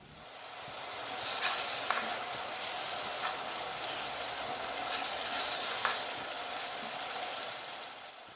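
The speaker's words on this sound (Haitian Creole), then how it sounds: "m'a quitter li frit yon 10 minutes pour zonyon capable prendre temps li pour le frit" Steady crackling sizzle of onions frying in hot oil, continuous and close, with a few sharper pops scattered through.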